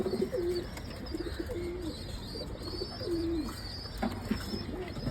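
Pigeons coo repeatedly at a moderate distance, soft throaty phrases rising and falling over a steady background hiss, with no voices.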